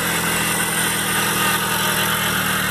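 A car engine idles at a car auction, a steady, close, continuous hum and rumble with no variation or speech.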